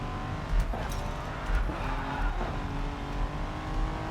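A Nissan GT-R R35 tuned with 2ECU races through the Racing Master video game, its engine holding a steady drone while tires squeal and skid through corners. The sound stays at a modest level, with no talking.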